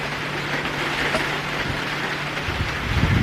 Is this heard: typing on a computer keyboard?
no